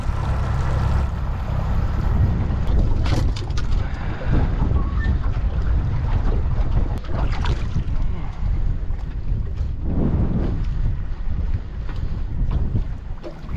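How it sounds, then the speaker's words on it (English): Strong wind buffets the microphone outdoors on a small tinny boat in outback Australia, a loud, constant roaring rush with gusty swells and occasional knocks. "This wind is so hectic."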